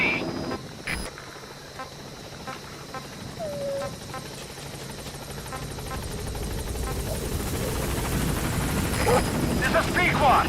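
Helicopter in the video game Metal Gear Solid V: The Phantom Pain coming in to a landing zone, a steady rotor drone that grows gradually louder as it nears, with radio-style speech over it.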